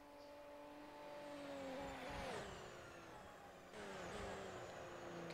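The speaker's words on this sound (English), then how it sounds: "You can hear the hybrid technology in that Audi whirring away as he comes down onto the back straight" An Audi hybrid race car in a sim race at Monza, its whirring electric whine and engine tones rising and sweeping as it passes down the back straight, with a second surge near the end, moderately faint.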